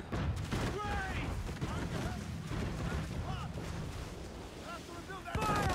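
Heavy booms of mortar fire from an enemy ship during a naval battle in Assassin's Creed 4 Black Flag, rumbling under wind and sea noise, with someone talking throughout.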